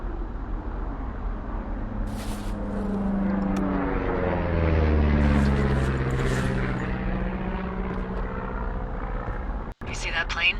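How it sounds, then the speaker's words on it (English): An airplane passes overhead in the Firewatch video game, its engine drone swelling to a peak near the middle and then fading away, with broad low rumbling. "You see that plane?"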